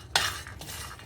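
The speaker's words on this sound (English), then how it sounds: "I've added cashew and peanut. Okay, we will roast it for a minute" Cashews and peanuts roasting in a pan, a sharp scrape of a spoon stirring them, then softer rattling and light sizzle, close and brief with no talk.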